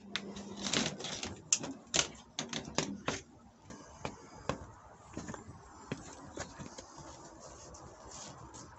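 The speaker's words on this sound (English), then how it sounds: "So I can hear the tinkle of rain on the umbrella." Rain on a compact pocket umbrella, a close, irregular patter of sharp taps and ticks on the canopy, denser and louder at first, then thinning into lighter scattered drops.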